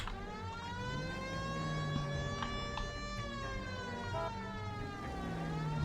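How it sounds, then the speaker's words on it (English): A police car siren in the L.A. Noire video game wails continuously and fairly steadily, rising and falling slightly over engine and road noise, without talk. "Hit the siren."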